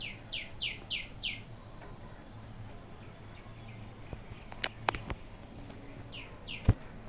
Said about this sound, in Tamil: குருவி சவுண்ட் பாருங்கள்